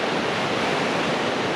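Cold mountain stream water rushing loudly and steadily in a Vermont forest, a dense, continuous roar with no pauses or voices.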